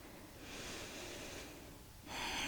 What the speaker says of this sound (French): Prenez une longue expiration. On vide les poumons.